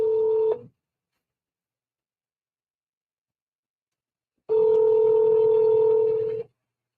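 Telephone dialing tones while placing a call: a brief tone, a pause of silence, then a longer steady ringback-style tone, clean and close.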